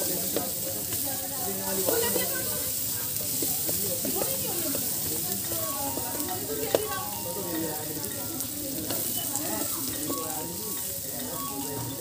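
Onions sizzling as they fry in butter at a fast-food stall, a steady dense crackle running for the full stretch alongside stirring clatter and background voices.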